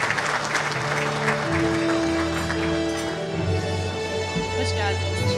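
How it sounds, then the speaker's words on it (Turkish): Audience applause at a textile association dinner in Bursa, steady clapping from a crowd filling the room, with music playing underneath. "Kocaman alkış istiyoruz Yaşar Bey için"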